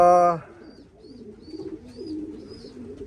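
Domestic pigeons coo softly in a breeder loft, a low steady murmur of overlapping coos near the microphone, with a few faint higher chirps above and a brief voice at the very start.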